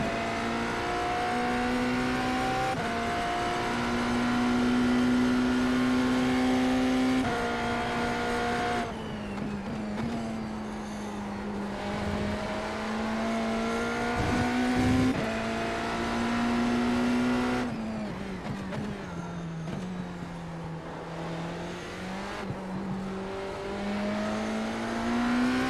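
On-board race car lapping a circuit with a loose, tail-happy handling balance, engine note climbing through each gear then dropping on sharp upshifts and braking, loud and continuous for the whole run with no talk.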